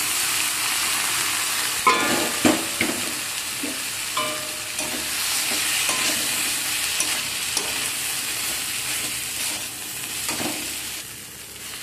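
Boiled chickpeas being stirred into masala frying in oil for chana masala, with a spatula scraping and clanking against the pan in irregular strokes over a continuous close sizzle; no one speaks.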